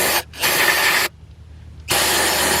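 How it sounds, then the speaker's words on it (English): Aerosol cleaner spraying oil off a Ford F350 7.3L engine, a close hissing burst, a brief pause, another longer burst, then a quiet gap before a final spray. "let's go ahead and spray off all that oil that you see right there"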